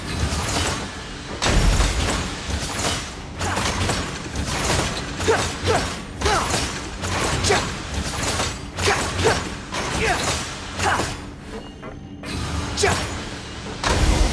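A jammed machine mechanism clanking and creaking in the Genshin Impact video game, a run of rhythmic mechanical clunks and grinding creaks repeating for several seconds at close range, with no talk.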